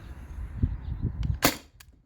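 A CO2-powered T4E TR68 pistol with a 1mm drilled restrictor fires one sharp, close crack, followed by a fainter second snap, after some low handling bumps.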